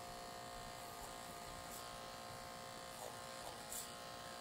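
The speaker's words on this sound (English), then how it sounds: "I can control all the lengths with the clipper and the comb." An electric hair clipper buzzes steadily while cutting a men's undercut with a fade and blended back, a continuous close whir with slight changes as the blade moves through the hair.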